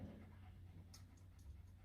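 A seven-month-old purebred Kangal puppy pants close by in quick, quiet rhythmic breaths, faint against a low background hum.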